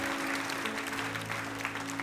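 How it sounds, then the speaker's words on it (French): A church congregation claps together in a sustained, fairly faint round of applause over a steady low electrical hum. "que tous ceux qui le croient disent Amen et applaudissent le roi Dieu"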